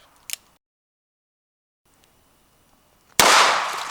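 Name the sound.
revolver gunshot into dirt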